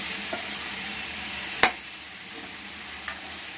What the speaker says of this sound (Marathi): आणि त्याबरोबर लगेच टोमॅटो पण आपण टाकून घ्यायचं आहे व्यवस्थित त्याला हलवायचं